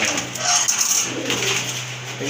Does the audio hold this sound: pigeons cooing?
yes